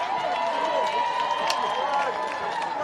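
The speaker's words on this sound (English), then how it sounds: "have a listen to the crowd" Crowd at full time of a football final at the QLD Murri Carnival, a sustained wash of cheering and applause with scattered claps and shouts under a commentator's voice.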